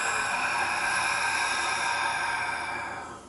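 A long, deep exhale during a guided breathing exercise, a steady breathy rush lasting about three seconds and fading at the end, close and alone.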